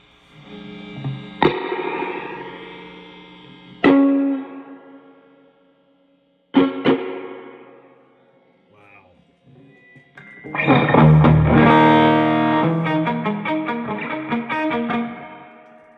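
Distorted electric guitar through a 2002 Fender Hot Rod Deluxe tube amp plays loud chords and single hits with pauses between, ringing out, then a denser driven passage of chords and notes.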